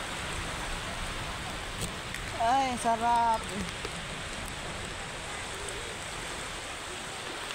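Heavy rain pouring down at the sea during a bathing outing in strong wind, a broad, constant wash of falling water and surf, with a woman's brief exclamation rising over it partway through.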